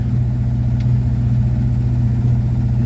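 Close and loud, the engine of a 1954 Ford Popular 103e idles with a steady, even low-pitched throb and no voices over it.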